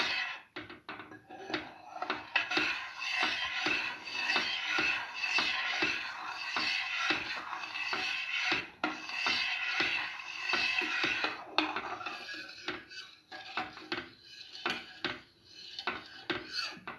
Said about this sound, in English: Keep on stirring till the sugar dissolves. Stir thoroughly.